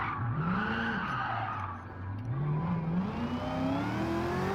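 Tires on a Lamborghini Huracan squeal loudly under hard braking, with a sustained rising screech over engine whir that holds steady for several seconds, close and continuous with no talking.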